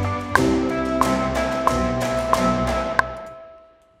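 Percussion being layered into a beginner's song composition: five sharp, evenly spaced tonal hits over a sustained synth-like backing, ending in a fading decay, with no speech.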